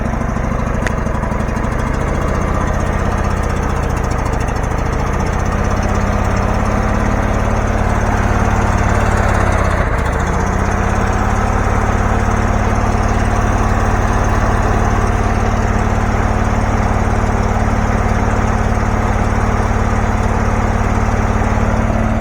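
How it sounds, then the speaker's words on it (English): A Case 444 garden tractor engine runs on choke, a loud, steady mower-like drone that holds close and constant throughout with no talking. "it wants the choke on to stay running"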